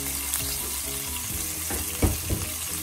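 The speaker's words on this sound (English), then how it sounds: "all of my green chilies. Be careful because it splutters." Green chilies splutter and sizzle as they hit very hot oil in a pan while cooking shrimp biryani, a steady close crackle with a few louder pops near the end, no voices.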